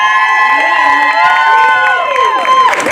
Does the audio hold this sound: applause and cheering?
yes